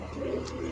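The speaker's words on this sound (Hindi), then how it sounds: "ये कबूतर है" A Sialkoti pearl pigeon gives one brief, low, close coo.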